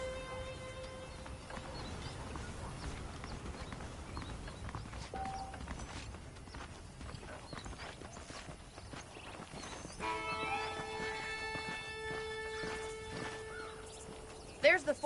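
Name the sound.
horse hooves clip-clop in Red Dead video game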